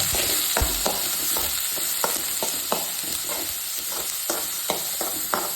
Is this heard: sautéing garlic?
yes